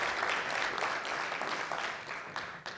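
An audience at an annual members' meeting applauds to welcome a speaker to the stage, a dense, even clapping held at moderate loudness throughout.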